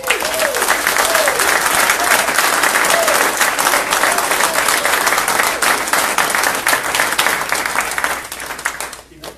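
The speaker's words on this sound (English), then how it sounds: "I just want to give him a round of applause for doing it." A crowd gives a loud, sustained round of applause and cheering for a 24-year-old man, dense clapping filling the whole stretch before tapering off at the end; a whistle-like tone rises briefly early on.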